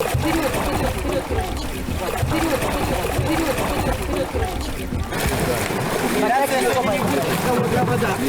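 A kayak paddled on open water during rowing training for two 15-year-old boys preparing for a kayak race: steady splashing and boat noise runs throughout, with wind and voices mixed in toward the end.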